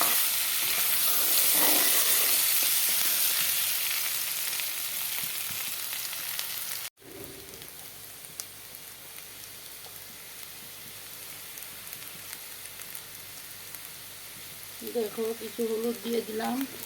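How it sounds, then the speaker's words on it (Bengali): Potatoes frying in oil for a rohu fish curry, a strong sizzle for several seconds that drops to a quieter hiss, with a voice briefly heard near the end. "মাছের জন্য আলুগুলোকে ভেজে নিই"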